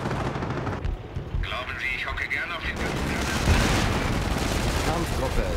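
Sector artillery fire in the strategy game Company of Heroes: a constant barrage of shots and blasts that swells louder in the second half, with talk heard early on.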